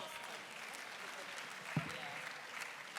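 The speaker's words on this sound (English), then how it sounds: "Another round of applause for the panel, please" Faint, distant applause from a conference audience for a panel, a soft steady patter of clapping with one brief louder knock partway through.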